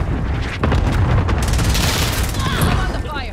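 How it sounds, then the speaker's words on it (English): A cluster strike in Call of Duty: Modern Warfare sets off a loud, continuous barrage of booming explosions that overlap into one dense, rumbling roar, with crackling blasts layered on top. "Allied cluster strike inbound."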